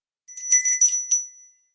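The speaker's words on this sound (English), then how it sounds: "Every time someone says, I didn't know that, we're going to ring the bell." A small hand bell rings brightly a few times in quick succession, close and clear, used as a counter in a talk about an African American museum in southern Arizona; no voices.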